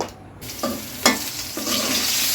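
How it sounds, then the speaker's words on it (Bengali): Potatoes fry in oil for a Bengali house fish curry, with a close, steady sizzle punctuated by three or four quick spatula scrapes and clatters, and no one speaking. "আলুগুলো কিছুক্ষণ ভেজে তুলে দেওয়া হচ্ছে"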